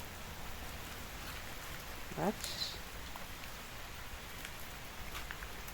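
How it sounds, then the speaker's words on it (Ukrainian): Steady rain patters in a constant hiss, with a brief spoken word partway through. "Гарний дощ іде."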